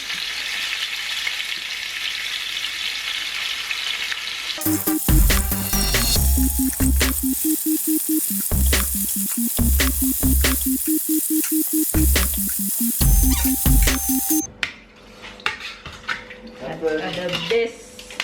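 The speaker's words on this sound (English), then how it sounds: "What I'll do is just brown my oxtail first, and then I'll put it in the pressure cooker." Oxtail browning in a pot for Jamaican oxtail with rice and peas, with steady sizzling and frying and repeated clanks of a utensil against the pot in uneven bursts, close and fairly loud.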